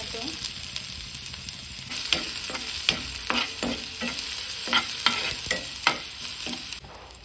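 Finely chopped onion sizzles in a hot pan for a homemade paneer bhurji while a spoon scrapes and stirs it in irregular strokes, a steady frying hiss beneath close, distinct clatters.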